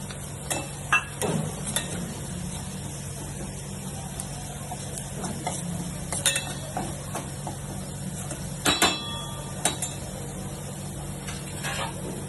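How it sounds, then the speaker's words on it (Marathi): Onions fry in a pan as Kolhapuri masala goes in, giving a low, steady sizzle broken by sharp scrapes and clinks from a stirring utensil at irregular moments. "आता मी हा कोल्हापुरी मसाला टाकत आहे।"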